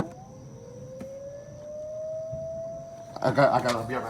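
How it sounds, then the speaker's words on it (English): Tornado warning civil defense sirens in Beloit, Wisconsin at night, a faint rising wail holding steady in the distance, followed near the end by louder nearby voices talking over it. "There are the sirens."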